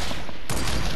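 Gunfire from the video game Fortnite bursts loudly and close, a sharp shot followed by dense rapid fire filling the second.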